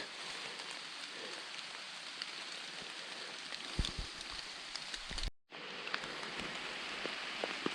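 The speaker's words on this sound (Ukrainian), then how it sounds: "Дощ паде далі." Steady rain falls through a lowland Carpathian forest in a soft, continuous hiss, with occasional close drips and knocks and one brief dropout near the end.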